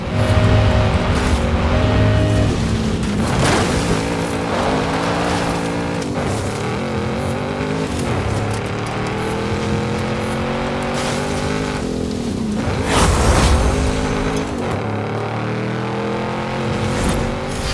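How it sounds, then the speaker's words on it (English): A Nissan GTR in a racing video game drives with a sustained, loud engine drone that shifts pitch through gear changes and revs, with brief tire squeal bursts, no voices over it. "Nissan GTR, one of my favorite vehicles in this game."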